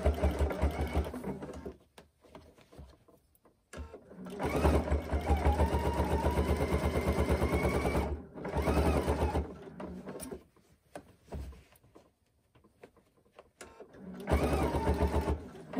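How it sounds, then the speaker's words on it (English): A sewing machine stitches fabric bias binding onto a fabric basket base, running in several rapid, rhythmic bursts separated by short pauses, close and clear. "And I'm sewing right on this edge of the binding."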